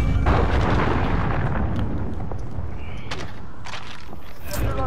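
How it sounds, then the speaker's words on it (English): Cruise missile explosion in Call of Duty Modern Warfare multiplayer, a loud deep rumbling boom sustained across the moment with scattered crackles and gunfire, voices faintly mixed in. "Allied cruise missile away"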